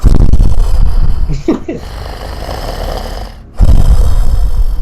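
A voice mimics the deep, rumbling snores of a sleeping Dragonborn who lies out cold on the floor: loud, rough, breathy rasps at the start and end, with quieter, muffled breathing in between.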